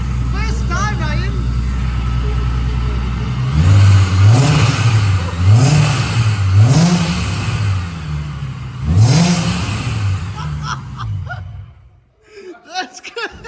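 A car fitted with a Vortech supercharger revs hard several times, with loud rising and falling bursts of engine roar close by. People laugh and react over the engine, which cuts off near the end.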